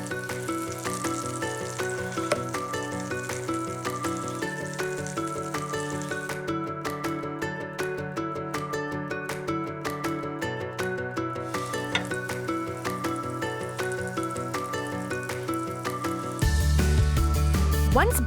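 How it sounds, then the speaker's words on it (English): Butter sizzling and crackling steadily in a hot pan, with music playing along underneath the whole time. "That butter is sizzling up."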